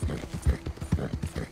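Horse hooves clip-clop at a steady rhythm while riding through a bayou in Red Dead Redemption 2, loud and close, with a low continuous ambience underneath.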